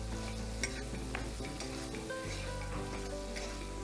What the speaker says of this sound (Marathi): पुन्हा थोडं परतवायचं.